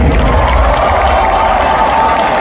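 An audience at a large recognition event in Kuala Lumpur claps in a continuous, full wash of applause with some crowd noise mixed in, steady and loud throughout.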